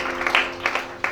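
Applause from an audience at an El Shaddai church conference in Libreville, Gabon: a short, dense wash of clapping with a few sharper bursts standing out, moderately loud throughout.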